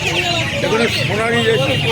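Chickens cluck and call repeatedly at the Uluberia hen market near Kolkata, with people talking nearby over a steady background hum.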